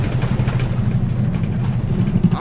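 Scania CityWide city bus diesel engine from the OMSI 2 simulator, heard from an outside view: a steady, dense low rumble of idling or light running, continuous and alone with no talk.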